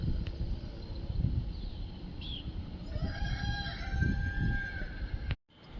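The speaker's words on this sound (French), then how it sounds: "Et toujours l'accueil du coq, qui nous souhaite la bienvenue." A rooster crows in a Moroccan village between Oualidia and Safi, a clear drawn-out call at moderate distance over rumbling background noise, with a short break near the end.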